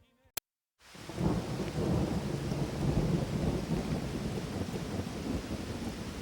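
A thunderstorm effect for a radio drama opens with a sharp crack, then a heavy roll of thunder over steady, dense rain that fills the scene without any voices.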